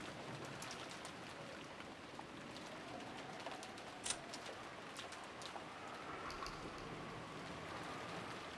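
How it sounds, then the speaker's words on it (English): Soft, steady rain patters on a surface through a break in a livestream, a continuous wash of droplets with a few faint bird chirps and one brief sharp tick partway through. "we get the soothing sound of rain for the break."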